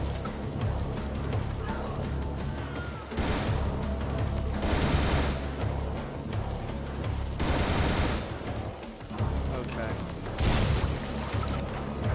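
Bursts of enemy gunfire rattle through a video game match, heavy and loud, with several distinct volleys spaced a few seconds apart over continuous dense battle noise.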